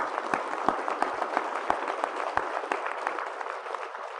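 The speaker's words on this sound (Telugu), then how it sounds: "వాలంటీర్స్ గట్టిగా చప్పట్లు కొడదాం మనం అందరం కలిసి" An audience claps for volunteers at a spiritual gathering, a dense, steady round of applause from a large crowd with no voices over it.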